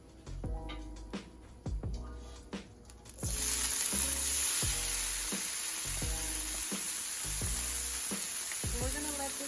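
Ground beef frying in oil in a pan, a steady loud sizzle that swells partway through as the meat is returned, with repeated knocks and scrapes of stirring throughout.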